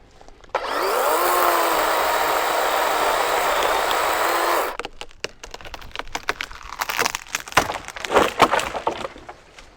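A DeWalt battery chainsaw whines steadily as it cuts through wood for several seconds, then stops. Crackling and splintering wood follows in irregular snaps and thumps.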